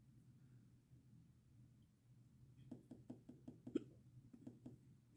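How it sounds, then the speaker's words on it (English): Hiccups from someone after eating a spicy chip in a spicy chip challenge: a run of short, sharp, quiet jolts that begins partway through and repeats about every half second, over a low steady hum. "There's the hiccups."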